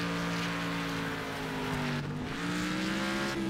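Race car in a racing video game, a steady engine whine holding and shifting in pitch as another car closes in. It is moderately loud, with no talk.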